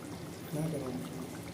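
Soaked and cleaned dried bat fish goes into a pan of curry with a short, soft pouring slosh, heard under a person talking.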